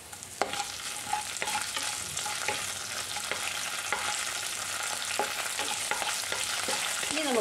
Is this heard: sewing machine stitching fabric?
no